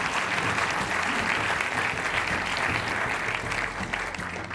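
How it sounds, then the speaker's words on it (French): A large audience at an award ceremony for territorial projects applauds the winners in a dense, steady wash of clapping that holds evenly throughout and fades only slightly at the end. "On les applaudit très fort tous les 4."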